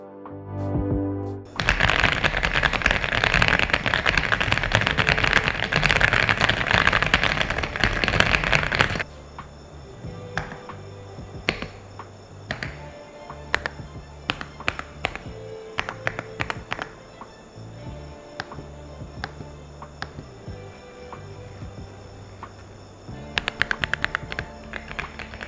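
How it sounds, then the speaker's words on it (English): Typing on an Aula F75 mechanical keyboard gives soft, cushioned key clicks in quick irregular bursts, close up, over a quiet backdrop of a steady tone, after an opening stretch of dense, loud clattering. "The keys have a soft, cushioned feel while typing, and the sound is really satisfying."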